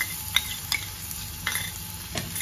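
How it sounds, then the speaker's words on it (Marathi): Ginger, garlic and green chili paste sautéing in hot oil, giving a steady close sizzle broken by several light scrapes of a spatula at roughly regular intervals. "आता त्याच्यामध्ये पहिल्यांदा आलं लसूण मिरचीची पेस्ट टाकायची"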